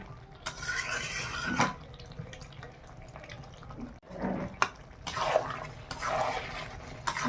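Hot water pours into a pot of browned chicken curry in bursts, a close gushing splash with brief pauses and scattered clinks between pours, fairly loud and with no talking.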